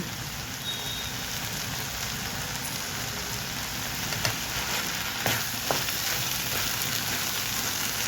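Coriander and tomato fry in a pan for chutney with a soft, continuous crackling sizzle like light rain, steady and fairly quiet throughout, with a few faint knocks near the end.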